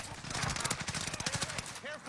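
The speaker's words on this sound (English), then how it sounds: "Where's he shooting from?" Enemy gunfire in the Warzone video game, a rapid stream of automatic shots over dense game noise for about two seconds, with voices talking underneath.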